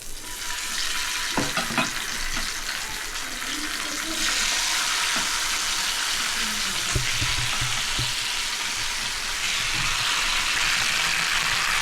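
Fish fry on a hot stone griddle, giving a loud, continuous close-up sizzle and crackle with occasional soft knocks, steady throughout with no talking.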